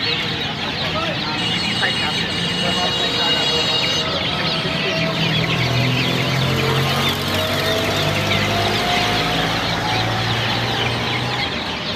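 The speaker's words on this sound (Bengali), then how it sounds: "এটা তিতি মুরগি" Guinea fowl and chickens at a busy poultry market, with clucking and a rooster crowing among steady crowd noise and people talking.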